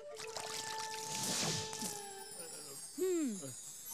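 Water poured onto a mortar mix on a work site, heard as a splashing, hissing pour during the first two seconds over steady background music tones, followed by a brief sung or vocal sound.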